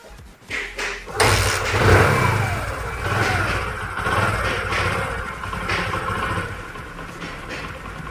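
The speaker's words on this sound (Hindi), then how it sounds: "अब करते हैं गाड़ी को स्टार्ट, देखते हैं कैसा क्या रिजल्ट मिलता है।" A restored Hero Discover 125 motorcycle engine cranks with a few thumps, then fires and runs, revving up and settling into a loud, steady rough idle close by.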